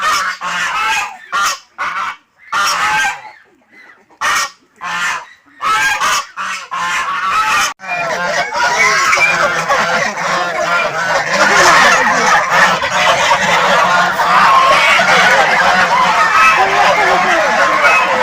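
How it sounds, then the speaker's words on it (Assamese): Geese honking loudly and continuously, first in short separated bursts with gaps of near silence, then building into a dense, sustained chorus of overlapping honks close by. "ৰাজহাঁহ এইবিলাক"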